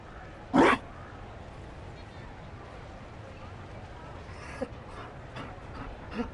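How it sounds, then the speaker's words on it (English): A Mabari war dog in Dragon Age: Inquisition gives one sharp, loud bark, followed by quieter panting and small huffs. "You found a dog?"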